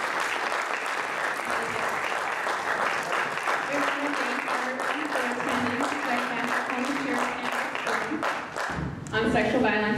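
An audience at a county sheriff's forum on sexual violence applauds at the close, a dense, even clapping that holds steady for several seconds before a voice starts speaking over the final moments.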